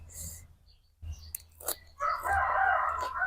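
A rooster crows nearby in a rural home setting, a long drawn-out call in the second half, preceded by a few faint clucks and small bumps.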